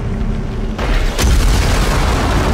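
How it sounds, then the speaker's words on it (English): Incinerator blasting in the video game Dead Space, a loud roaring burst that kicks in abruptly and holds as a sustained, rumbling rush with a sharp crack partway through. "The incinerator."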